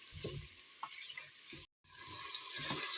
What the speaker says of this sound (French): il faut que je tourne un petit peu pour qu'il se dissout bien